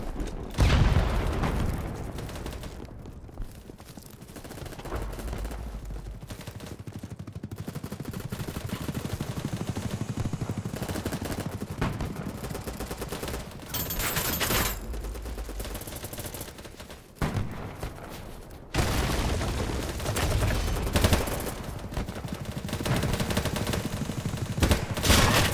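Assault rifle gunfire in a video game rattles almost nonstop in dense automatic bursts with booming impacts, loud and close, broken by a brief lull midway before the firing resumes.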